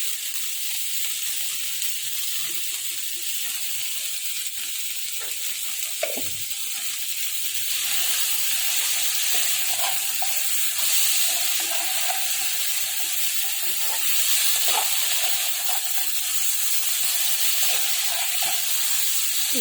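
Okra fries in a pan with ginger and salt, giving a loud, continuous close-up sizzle and hiss. Faint stirring scrapes surface now and then, with no talking.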